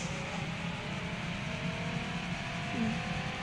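Japanese drift car engine accelerating, heard from inside as a steady, droning engine hum with a gradual rise in pitch, loud and continuous throughout.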